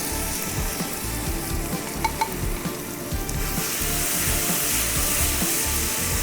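Pre-cooked chana dal tipped into a hot pan while making jackfruit payasam, giving a steady, close, loud sizzle with soft stirring scrapes throughout and no voices.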